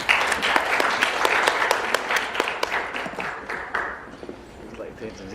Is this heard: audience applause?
yes